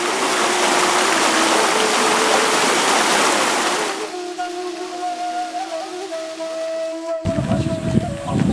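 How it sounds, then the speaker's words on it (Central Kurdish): Murmuring stream water in a Kurdish village rushes loudly and steadily at first, then drops to a softer flow beneath a sustained tonal hum before a brief burst of rushing noise returns. "چڕ و خوڕەی ئاو"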